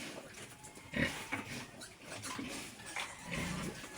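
Pigs stir in a pen, with faint grunts and shuffling plus a few wet sloshing noises at a distance, quiet and without talk.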